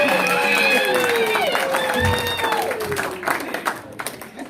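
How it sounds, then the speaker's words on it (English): Comedy club audience at Laughing Skull in Lexington, Kentucky, clapping and cheering loudly, with the applause gradually thinning out; scattered voices and a high whistle-like tone rise over the crowd noise. "Round of applause for the one white person that thinks I'm funny."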